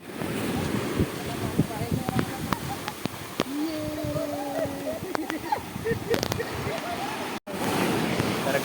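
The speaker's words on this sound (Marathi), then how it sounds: "वारा पण मस्त आहे" Steady seaside wind at Malvan on the Konkan coast, a constant broadband rush with surf beneath, loud and close on the microphone, with a brief dropout near the end and people talking in the background.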